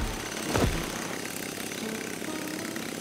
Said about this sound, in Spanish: Tenemos que detener ese taladro, Morphle!